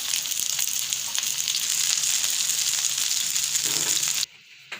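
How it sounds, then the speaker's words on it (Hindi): Potato and egg kabab patties frying in hot oil until light brown give off a steady, loud, close sizzle that cuts off abruptly near the end, followed by a soft clink. "ऑयल गरम करके आलू की टिक्कियों को जो है हम अच्छी तरह से लाइट ब्राउन करके फ्राई कर लेंगे।"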